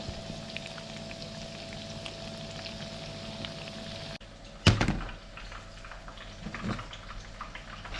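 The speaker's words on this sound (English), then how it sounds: "Let those sizzle up, give them a flip over" Seafood sizzling in a frying pan on the shore, a faint, steady crackle and hiss that continues throughout, briefly interrupted by a sharp clatter partway through.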